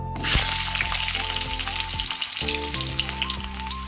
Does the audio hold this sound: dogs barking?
no